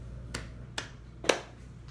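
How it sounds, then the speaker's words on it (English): Someone claps three times during a children's Sunday school lesson. The three sharp, separate claps fall about half a second apart, the last one loudest, against a quiet room. "can you clap your hands 3 times?"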